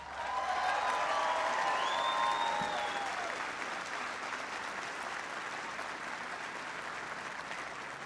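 Troops at a military airbase in Afghanistan give a big round of applause, a broad sustained wash of clapping from a large crowd, loudest early and easing slightly, with faint whistles and cheers over it.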